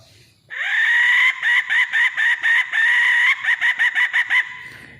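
A brass hen call blown in a sustained shrill tone, then a rapid series of short clucking bursts, imitating a female junglefowl; loud and close, no talk.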